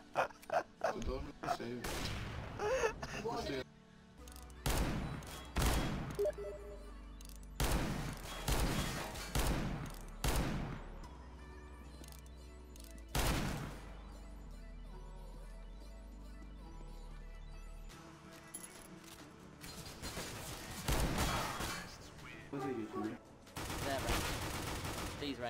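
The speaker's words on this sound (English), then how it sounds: "He sprayed fire with a fucking Deagle and hit me 3 times." Desert Eagle pistol fire in Counter-Strike, sharp single shots cracking out at irregular intervals with some rapid clusters, loud and close, spread across a long stretch of game noise with players talking.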